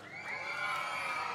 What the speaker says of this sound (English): Can I have another big cheer for Anna and Elsa?